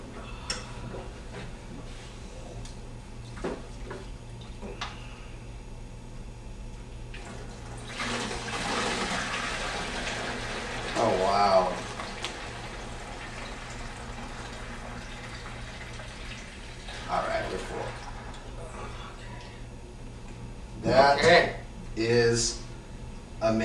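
Dirty liquid poured from a canister into a fish tank makes a splashing, gushing rush in two main bursts, the first louder and the second ending in gurgling surges, with a voice and low background hum.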